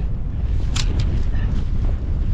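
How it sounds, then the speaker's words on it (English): Strong wind buffets the microphone in a constant low roar at a solstice wild camp, with a couple of faint clicks and rustles in between. "Oh, it's windy. It's just too windy to stand here and do this."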